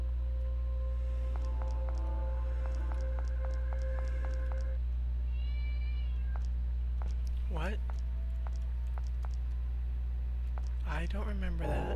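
Short pixelated cat meows from the horror video game Mad Father, sounding as a few brief tonal chirps over a steady low game hum, with a person talking intermittently around them.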